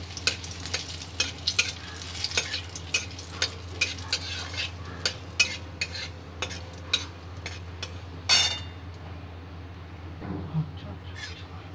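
Black cumin seeds and dried red chili frying in hot oil for a pumpkin and coconut dish, a steady sizzle punctuated by frequent clinks and scrapes of stirring against the pan, with a louder clatter near the end.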